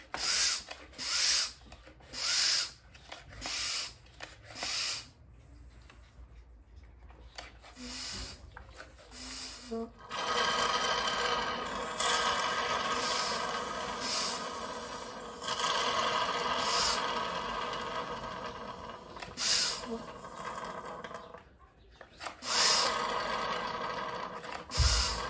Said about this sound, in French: Et on va aller y mettre un petit coup de pompe à dépression dans la tronche pour aspirer